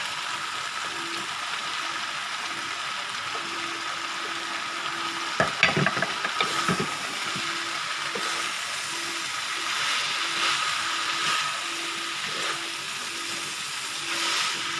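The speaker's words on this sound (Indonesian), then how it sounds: "Aduk hingga rata." Stink beans (pete kacamata) and peanuts are stirred in a frying pan over a steady, close sizzle, with a burst of scraping and clattering spoon strokes midway before the hiss settles again.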